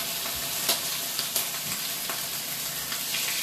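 Salmon fillet frying in a pan, a steady close sizzle and crackle with scattered sharp pops, running alone without any voices.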